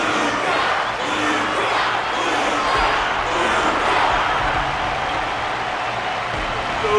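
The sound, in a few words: crowd applause in Honkai Star Rail video game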